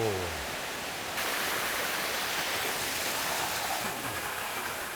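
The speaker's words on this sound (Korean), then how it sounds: "맑고 시원한 바람과 투명하게 쏟아지는 물소리에 이끌려 계곡에 성큼 다가가니" Clear water rushes through a mountain valley stream below Seorisan near Namyangju, a loud, dense, continuous roar heard close up with nothing else over it.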